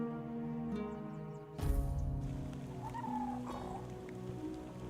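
Rain falling in the fantasy video game Tainted Grail: The Fall of Avalon, a steady hiss of downpour over low game music, rising briefly to a louder wash before settling into a continuous patter.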